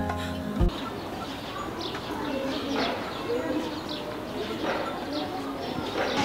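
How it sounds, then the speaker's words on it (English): Many birds chirp and tweet in a busy outdoor chorus in Mardin, Turkey, steady and fairly close, with faint background murmur. "from the tweet tweet tweet of the birds"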